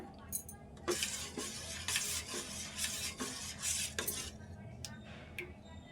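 A utensil stirs and scrapes through thin flour batter for dosa in a bowl, with repeated close scraping strokes coming in bursts, no talking.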